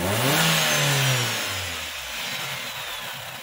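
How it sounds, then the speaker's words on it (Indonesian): A Nissan X-Trail engine revs up and then settles, with a faint high whistle riding over the smooth motor hum, close by and with no talking. "Suara mesin super halus dan ada siulan luar biasa ini."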